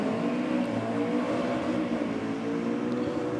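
A Toyota Supra drag racing down the strip in the Rocket Lane, its engine giving a steady, loud roar that holds throughout without any talk over it.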